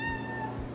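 A single clear cat meow, short and close, rising then trailing off.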